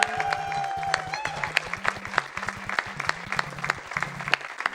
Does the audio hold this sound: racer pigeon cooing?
no